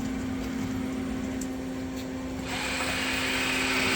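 A PolyGim Diamond 42CSL CNC Swiss hybrid lathe runs with a steady mechanical hum and whir, and a brighter, louder machining hiss joins partway through, continuous and without talk.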